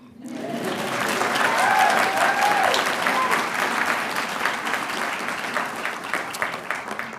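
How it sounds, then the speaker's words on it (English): Audience claps at a public interest and pro bono law graduation ceremony, a full sustained round of applause that swells quickly, peaks early and then slowly thins, with a faint voice briefly audible in the hall. "Now you can clap."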